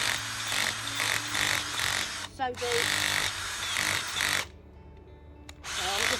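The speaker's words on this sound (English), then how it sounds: "All you need is a drill and an auger," Cordless drill with an auger bit boring holes in allotment soil for planting potatoes, a loud whirring grind in long bursts with short pauses, someone speaking briefly between runs.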